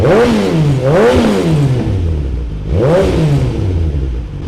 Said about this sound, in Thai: ฟังเสียงท่อกันดีกว่า